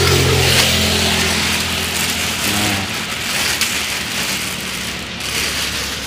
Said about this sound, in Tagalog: ang lakas talaga ng ulan.